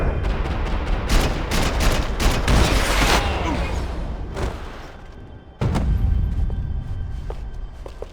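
Gunfire in the Max Payne video game: a loud burst of rapid shots and heavy thuds, fading into a lull before another sharp volley erupts near the end, with no talking.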